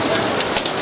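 Heavy rain pouring at an outdoor youth centre inauguration in Kasai Oriental, a dense, steady hiss of downpour, brief and loud, with no voices.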